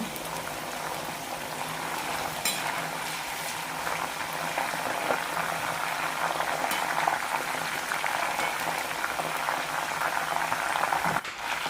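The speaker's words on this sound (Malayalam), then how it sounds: "ലോ ടു മീഡിയം ഫ്ലെയിം മാറി മാറി ഇട്ട് വറുത്തെടുക്കാം" Thin sweet potato chips deep frying in oil over a low to medium flame make a dense, continuous bubbling hiss that stays even and fairly loud, with a couple of faint clicks and no voices.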